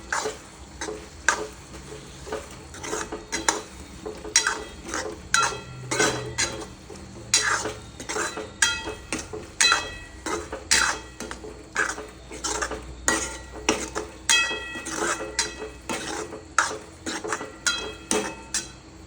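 A spoon scrapes and clinks steadily against a pan as red chili powder, turmeric and spices are stirred into pav bhaji, a rhythmic series of close metallic taps with soft frying beneath.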